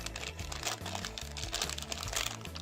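A Dracco Heads blind pack wrapper being torn open, close crinkling and crackling of plastic foil throughout, busy and continuous.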